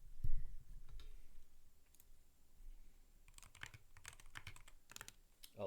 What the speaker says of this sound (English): The spacebar is a little bit rattly when it hits its upstroke.